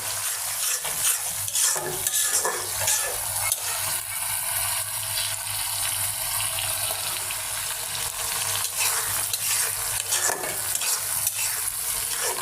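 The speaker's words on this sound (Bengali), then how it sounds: "এবার মাছগুলো দিয়ে দেব" Fish pieces frying in a spice masala of turmeric, chili, salt and a splash of water, with a steady close sizzle and repeated scraping and stirring in the pan throughout, no voices.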